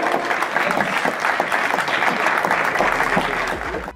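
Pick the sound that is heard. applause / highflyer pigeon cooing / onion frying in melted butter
applause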